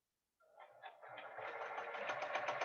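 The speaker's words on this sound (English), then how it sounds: "I'm just going to sew each of these diagonals. I'm sewing right on the line." Sewing machine running steadily as it stitches along the diagonal lines of a quilt sampler block, a close rapid mechanical whir with pulsing needle beats that builds and holds for a few seconds, no talking.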